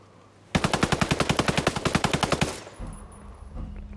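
Automatic weapon fire in Ghost Recon Breakpoint: a single loud, rapid burst of about twenty evenly spaced shots lasting roughly two seconds, then a quieter rumbling tail, with no talk.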